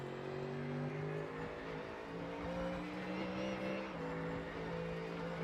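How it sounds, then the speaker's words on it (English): Ford GT3 race car engine in the iRacing sim at Spa, a steady sustained engine drone with a slightly wobbling pitch, loud and continuous throughout. "The engine note doesn't seem consistent. It seems like it wobbles a bit."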